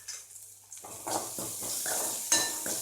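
Onions sautéing in a pan for pea sundal, with a light sizzle under repeated scraping strokes of a spoon against the pan, close and fairly quiet.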